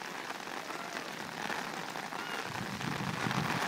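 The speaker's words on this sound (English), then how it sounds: "Just a little bit of rain." Rain falls steadily during a June 2011 summer storm in Ottawa, Canada. It makes a dense, continuous hiss of drops striking surfaces that swells slightly toward the end, with no talk over it.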